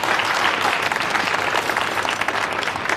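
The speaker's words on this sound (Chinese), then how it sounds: "鼓掌" Sustained applause from an audience at a jewelry design competition, steady dense clapping throughout with no break.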